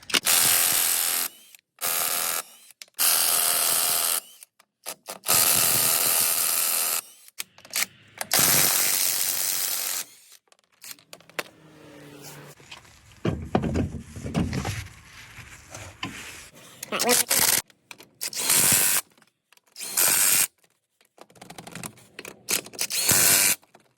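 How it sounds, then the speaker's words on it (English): A small impact wrench runs on the lug nuts of a Silverado truck wheel in repeated loud, rattling bursts of a second or two each, separated by short pauses, close up. "I do tighten my lug nuts by hand after I use the little impact right there"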